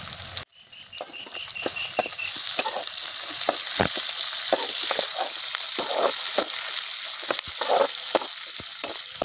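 Chopped tomato sautéing in a pan for a Tamil thuvaiyal chutney, a steady close sizzle broken by repeated scraping and stirring knocks from a spatula.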